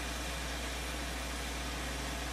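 A tractor engine idles in the video game Farming Simulator 2013. It makes a steady, dense drone with a low rumble that holds unchanged throughout, with no talk over it.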